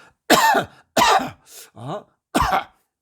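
A person coughs several times in short, harsh bursts, one of them rougher and wheezier, loud and close with brief pauses between.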